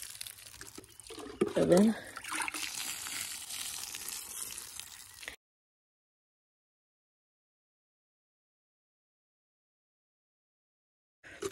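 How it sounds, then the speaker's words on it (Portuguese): Fish water poured from a container onto the soil of a potted pepper plant, a steady splashing hiss lasting several seconds at close range, with someone talking over it before it stops. "eu vou colocar uma água aqui de peixe, gente"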